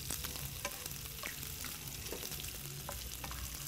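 Food fries in a pan on a stove, making a steady crackling sizzle with scattered sharper pops throughout, close and continuous with no talking; the dish is spaghetti carbonara made without cream.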